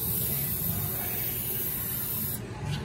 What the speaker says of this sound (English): you'll want to spray around it with some penetrant